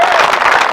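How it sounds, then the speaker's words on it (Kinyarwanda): Loud, close applause from a crowd at a choir concert, a dense continuous patter of many hands clapping throughout the brief moment. "amashyi menshi ku bw'iryo zina"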